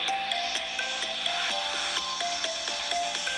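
A Realme GT 2 5G phone plays sound through its dual stereo speakers: a short, fairly quiet melody of bright, evenly spaced chiming notes, steady and clean.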